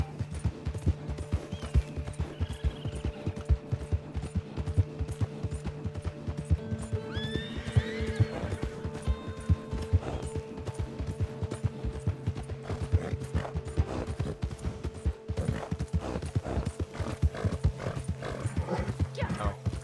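Rapid hoofbeats from a horse in the video game Red Dead Online clatter in a steady galloping rhythm throughout, with a whinny rising briefly partway through over a low hum.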